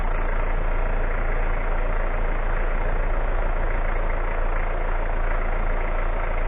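A Citroen ZX Break car engine idling steadily, a loud continuous low rumble that holds evenly throughout with no talking.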